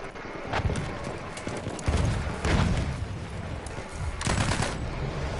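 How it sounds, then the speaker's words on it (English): A horse's hooves clip-clop in the World War I shooter game Battlefield 1, steady and fairly near, mixed with bursts of distant machine-gun and rifle fire in a busy battlefield soundscape. "Oh, look, there's a guy on a horse over here."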